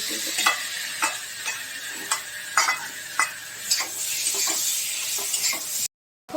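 Masala of salt, turmeric and ground sesame paste frying in a pan while a spoon scrapes and stirs it in steady strokes about every half second over a constant sizzle, cutting out briefly near the end.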